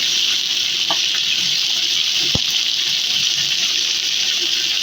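Water poured into a hot frying pan for a thin pabda fish curry broth, a steady hissing gush and sizzle running throughout with a brief clink near the middle.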